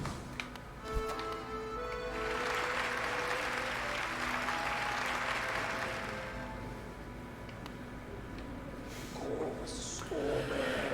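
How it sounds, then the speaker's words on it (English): In the video game Hollow Knight, a crowd applauds and cheers in a dense, steady roar of clapping that holds for several seconds and then eases slightly, with no talk over it. "Hear how the crowd adores you."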